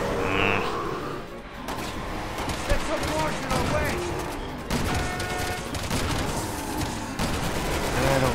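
Rapid gunfire and bursts of automatic fire ring out in the video game Resident Evil 6, dense and continuous over layered game sounds, with a person talking over the action.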